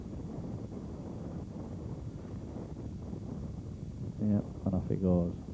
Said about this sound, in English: Again, we're at the very top of the course. Very strong wind.